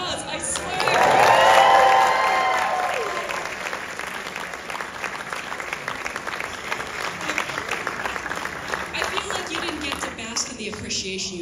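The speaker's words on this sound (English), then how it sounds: "You got applause, I swear." Audience at a Wicked film Q&A bursts into loud applause and cheering with whoops, peaking early then settling into sustained clapping that continues steadily for several seconds.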